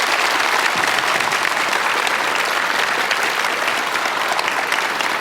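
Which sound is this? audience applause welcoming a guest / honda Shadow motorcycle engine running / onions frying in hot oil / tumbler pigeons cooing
audience applause welcoming a guest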